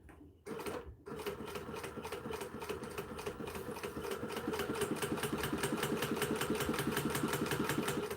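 A new sewing machine starts, pauses briefly, then runs steadily, stitching along a line with a fast, even mechanical rattle that gradually picks up a little speed, close and alone.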